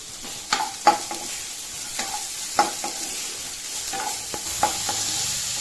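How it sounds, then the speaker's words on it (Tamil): Onions and capsicum sautéing on high flame in a pan, with a steady sizzle broken by repeated scraping stir strokes at an uneven rhythm, close and moderately loud, no talking. "வெங்காயத்தை நல்லா செவக்க வதக்கிக்கோங்க. கொஞ்சம் ஹை ஃப்ளேமில் வச்சு கைவிடாமல் வதக்கணும்."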